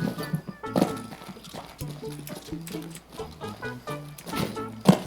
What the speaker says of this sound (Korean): 어 발소리